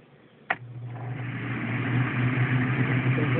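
A homemade redneck air conditioner's fan, plugged into mains power instead of solar, switches on with a click and then blows a steady, rising whoosh with a low hum that grows louder as it spins up.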